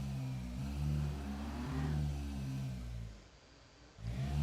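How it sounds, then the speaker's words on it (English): A European sports car engine revs in a racing video game, surging and falling in pitch over a steady mid-range drone, then dipping briefly quieter before swelling again near the end. "That's the European sports car engine."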